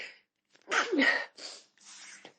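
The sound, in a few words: sneeze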